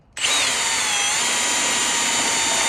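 A power drill bores pilot holes through a steel truck frame cross member, starting abruptly and then whining at a loud, steady pitch without pause.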